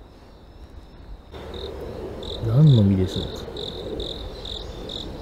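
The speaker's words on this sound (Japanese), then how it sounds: "もうコオロギかな、" Crickets chirp outdoors during a morning walk, a steady run of high, pulsing trills that grows clearer after the first second, while a person speaks briefly over them.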